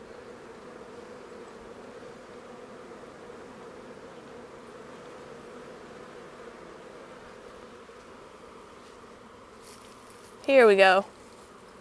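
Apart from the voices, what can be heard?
honey bees buzzing around hive frame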